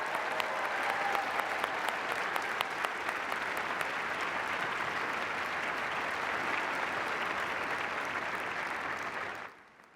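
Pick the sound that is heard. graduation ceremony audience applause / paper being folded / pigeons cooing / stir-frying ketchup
graduation ceremony audience applause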